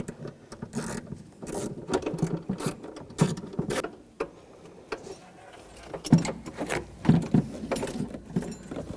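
Repeated clicking ratchet of a 10mm socket wrench loosening the battery terminal bolt on a 2007-2013 BMW 328i, with close, rhythmic ratcheting bursts and mechanical clatter spread across the clip.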